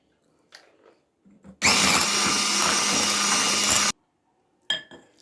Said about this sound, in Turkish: beyaz köpük oluncaya kadar karıştırıyoruz